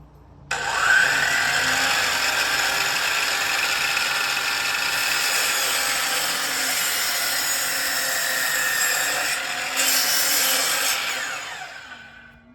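A power saw cuts through a 4x4 wooden fence post, a loud steady whine running almost unbroken for about ten seconds with a brief surge near the end before it winds down, with no talk over it.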